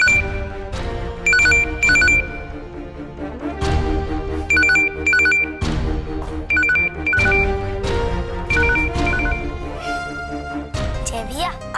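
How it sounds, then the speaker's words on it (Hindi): In a Hindi TV drama scene, an electronic telephone ringtone repeats in short bursts of bright tones, recurring in a steady pattern over background music and movement. "फोन बज रहा।"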